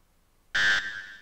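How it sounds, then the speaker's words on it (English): A single electronic beep from the space combat game Tie Fighter, a bright sharp tone that holds briefly, then drops to a softer tail before cutting off cleanly. "Beep."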